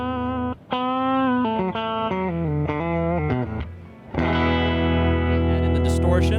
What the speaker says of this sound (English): So here's the compressor.